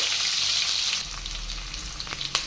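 Chopped onions dropped into hot oil with popped mustard seeds hiss into a steady, close sizzle, for a Tamil-style okra tamarind curry, with a few sharp crackles and pops toward the end.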